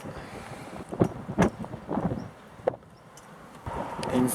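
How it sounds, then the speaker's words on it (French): Strong wind gusts during Storm Benjamin buffet the microphone outdoors, rising into a few harsh, loud blasts over a constant rushing roar, then easing back to a steady blow. "Il y a une sacrée rafale là, hein."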